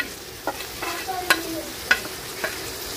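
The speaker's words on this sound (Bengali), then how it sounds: "সব মশলা মাংসের সাথে আমি ভালোভাবে মিশিয়ে নিছি" Chicken meat with spices, salt, soy sauce, chopped green chilli and pepper sizzles in a pan under a steady frying hiss, punctuated by a few sharp spoon clinks and scrapes as it is mixed, close with no speech.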